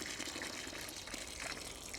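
Water glugs and gushes steadily into a freshly dug tree planting hole in a back garden, a faint, continuous splashing pour heard alone.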